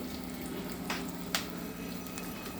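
Boiled amaranth leaves seasoned with salt and turmeric fry in a pan with a steady, soft sizzle and crackle, broken by a couple of sharper pops and stirring scrapes.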